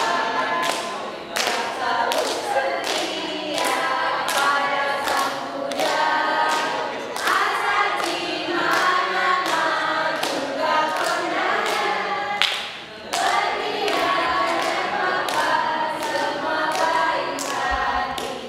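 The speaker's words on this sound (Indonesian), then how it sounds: "Kita tepuk tangan dulu." A class of students claps their hands together in a steady, repeated rhythm of sharp claps, fairly close, with a brief pause partway through and little talk.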